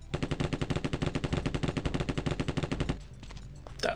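Rapid automatic gunfire from the 1995 PC game Terminator: Future Shock, a loud continuous burst of evenly spaced shots lasting about three seconds, followed by a quieter tail and a final blast.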